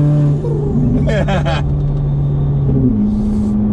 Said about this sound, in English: And then you can hear the turbos pull. Sounds amazing.